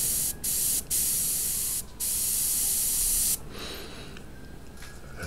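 An airbrush sprays paint onto a football helmet in close, loud hissing bursts, with short pauses between them, then a quieter steady hiss.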